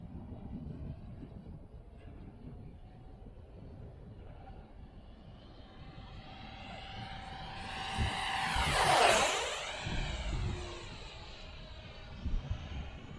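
An F-15 jet makes a low pass in strong wind: steady gusty rumble throughout, then the jet's roar swells and sweeps past with a sharp pitch drop near the middle before fading back into the wind.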